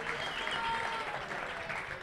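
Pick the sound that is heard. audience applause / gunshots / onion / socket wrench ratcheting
audience applause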